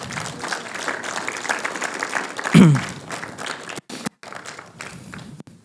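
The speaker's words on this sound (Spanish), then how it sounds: "Dele un aplauso al Señor" Continuous applause from a church congregation, steady and dense, with a brief louder thump partway through and a couple of abrupt cuts near the end.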